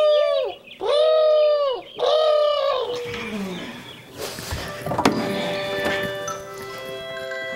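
Turtle doves give three loud, close cooing calls in quick succession, followed by quieter rustling and scattered clicks with faint chirps in the background.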